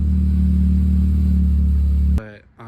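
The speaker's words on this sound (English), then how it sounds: "Today we are reviewing the Solo Performance warranted exhaust" A V6 car engine breathes through a Solo Performance exhaust, H-pipe back to the muffler, with a deep, steady, close rumble for about two seconds before cutting off abruptly.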